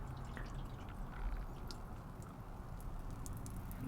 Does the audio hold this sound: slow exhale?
no